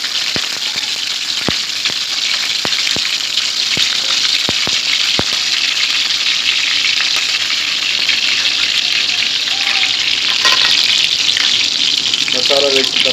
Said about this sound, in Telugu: తర్వాత మసాలా వేసేస్తున్నాం